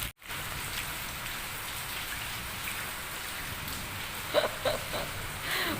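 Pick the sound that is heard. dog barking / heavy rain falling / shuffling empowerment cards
heavy rain falling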